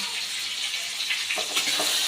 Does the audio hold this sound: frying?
yes